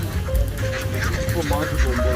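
Native ducks on a farm quacking and honking in a close, busy flock, with overlapping calls; a voice talks over them.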